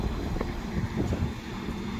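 Steady wind buffets the microphone at a remote outback train stop where the Indian Pacific halts for a driver change, a continuous low rumbling roar with no talk.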